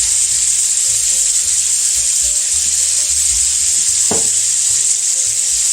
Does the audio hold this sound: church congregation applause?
no